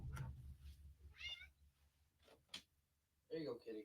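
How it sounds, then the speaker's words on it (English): A pet cat meows a few times indoors, short bright calls in close succession, faint and near, mixed with light handling noises and a low background hum. "I got a cat here that needs my attention."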